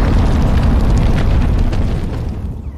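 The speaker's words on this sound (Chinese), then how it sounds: "此处有汉拔制作的火药，且引信正在燃烧" Gunpowder blast in an animated Chinese martial-arts show, a loud sustained boom that rumbles heavily through the whole moment and then slowly tapers off near the end.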